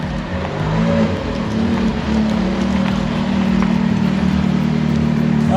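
A fire-damaged, rebuilt Ferrari's engine running steadily and loud, a low droning rumble with a rough vibrating tone while the car rolls along.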